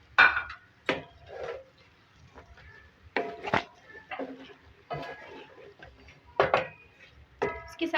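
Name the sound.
mixing okra and onions in a pan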